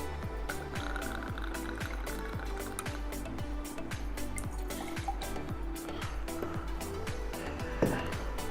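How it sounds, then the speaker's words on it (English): Jack Daniels whiskey poured into a cocktail shaker, a steady liquid trickle over about eight seconds, soft and partly masked by a rhythmic music beat. "take a shaker and pour about 60 ml of Jack Daniels."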